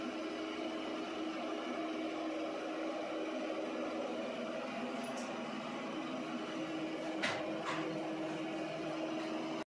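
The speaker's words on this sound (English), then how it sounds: "it actually oscillates back and forth to help pre-wet the mopping pad" A Shark AI VACMOP Pro robot vacuum-mop oscillates back and forth to pre-wet its mopping pad, making a steady, low motor hum and whir that continues unbroken, with a couple of faint clicks and no talking.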